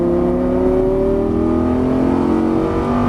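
Lamborghini Gallardo engine pulling hard on a racetrack, a loud, steady rising drone with climbing harmonics as revs build continuously, close and dominant with no talk.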